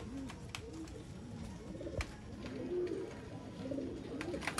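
Pigeons kept for breeding and sale in Bangalore coo softly and repeatedly, several low rounded calls overlapping, with faint clicks and rustles and no talking.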